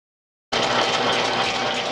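A restored 1957 Ariel Square Four motorcycle engine, mounted on a test stand, bursts into life after a brief silence and keeps running with a loud, steady, dense mechanical roar.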